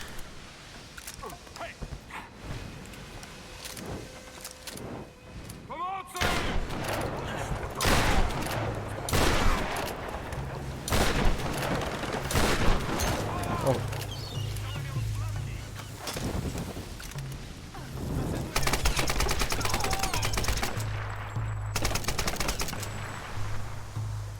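Bursts of gunfire in the Tomb Raider video game, rapid volleys and single shots crackling over wind and background game noise, with players talking throughout.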